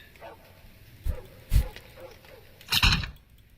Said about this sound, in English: I can hear him barking.